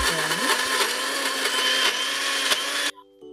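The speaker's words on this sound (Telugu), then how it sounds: "మినప్పప్పు అనేది ఇంకా మిక్సీకి వేసుకుంటున్నా." A kitchen mixer grinder whirs steadily while grinding soaked urad dal (black gram), a loud, constant motor drone with grinding texture, then it cuts off abruptly near the end, leaving a faint tonal hum.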